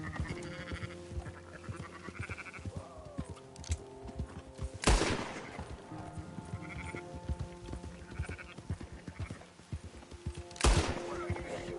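Two sharp gunshots ring out in Red Dead Redemption 2, several seconds apart, loud over a busy bed of sheep bleating, hoofbeats and ranch ambience.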